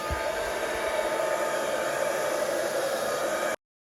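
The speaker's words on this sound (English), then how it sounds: "So I'm just going to use my hairdryer to blow that out." A hair dryer blows acrylic paint in a pour painting with a steady, loud whooshing hum close by, running continuously before cutting off abruptly into silence.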